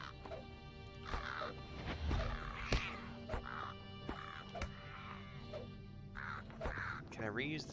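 Crows caw repeatedly as the Murder of Crows skill is cast in Lord of the Rings Online, harsh calls scattered over several seconds amid battle noise and game effects, with a voice talking at points.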